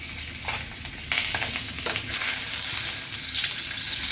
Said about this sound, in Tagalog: Ito guys, ang prito natin sa bangus.